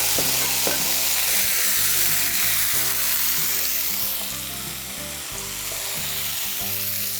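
Chicken steak fries in a greased pan, giving a loud, continuous, close sizzle with spitting crackles that ease slightly midway, and no voices are heard.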